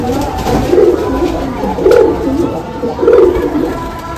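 A Kamagar pigeon coos close by, three soft low throaty calls spaced about a second apart over a quiet background.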